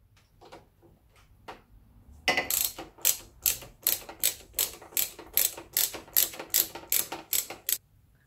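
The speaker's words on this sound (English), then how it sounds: "Get your ratchet on here" A ratchet undoes the nut on a Scotts steering stabilizer fitted to a Yamaha T7 motorcycle. After a few faint taps come about a dozen loud, rhythmic clicking bursts, close and evenly spaced.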